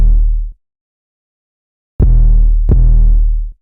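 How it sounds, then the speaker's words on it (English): An 808 bass drum pattern in FL Studio with a stereo imager: three loud, deep booming hits. One short hit is followed by a pause, then two longer sustained hits back to back. "I got this 808 pattern."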